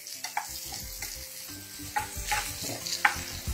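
Food frying in a pan for a diabetic-friendly breakfast, stirred now and then: steady sizzle with scraping spoon strokes and a few sharper clicks against the pan, close and moderately loud.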